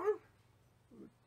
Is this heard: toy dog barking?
yes